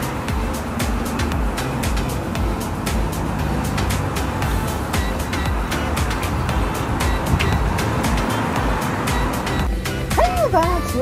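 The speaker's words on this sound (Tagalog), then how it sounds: "At ito ang traffic dito." Busy road traffic streams past, with engines rumbling and cars passing continuously close by, and a bus-like drone in the mix. Voices chatter in the background, and a brief higher tone sounds near the end.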